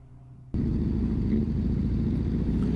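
A BMW R1100GS adventure motorcycle running on the road, its engine suddenly loud after a quiet opening half-second, then a steady close rumble without talk.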